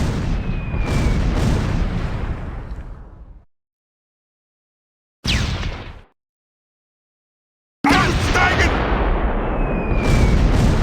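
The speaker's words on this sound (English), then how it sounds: "Curtis's anti-tank gun destroys the Panzer IV." Close Combat 4 anti-tank gun fires on a Panzer IV tank in a Battle of the Bulge scenario. Two long loud booming blasts with rumbling decay, separated by a shorter sharp burst, no talking.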